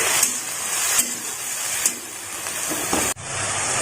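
Drumstick leaves frying in a pan sizzle steadily once water is added, a constant hissing crackle with a few sharp clicks of a utensil against the pan and a brief cut near the end.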